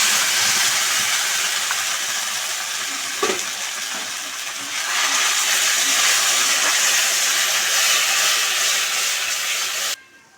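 A steady, loud sizzle of spice paste frying with browned onions in a pan, with a brief clatter midway, continuing until it cuts off abruptly near the end.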